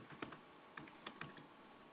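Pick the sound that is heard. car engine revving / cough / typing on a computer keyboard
typing on a computer keyboard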